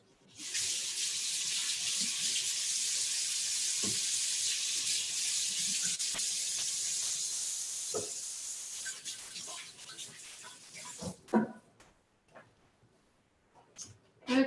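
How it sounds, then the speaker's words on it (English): Hands washed under a running kitchen tap, a steady broad rush of water lasting several seconds before cutting off, followed by a few splashes and clunks, with someone speaking nearby. "Just wash my hands a little bit."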